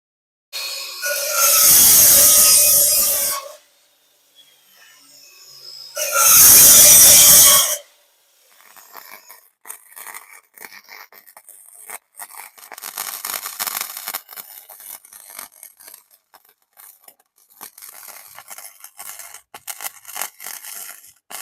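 Exhaust resonator being cut off a Hyundai Getz during a turbo exhaust build: two loud, harsh cutting bursts of a couple of seconds each, then quieter scraping and rattling handling noises.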